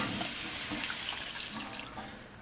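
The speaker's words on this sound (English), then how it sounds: "And I'm putting 1 cup of my organic veggie broth." Organic veggie broth pours steadily into a cooking pot, a close, continuous liquid splash and trickle lasting the whole moment with no talking.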